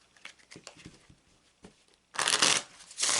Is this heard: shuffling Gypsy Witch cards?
yes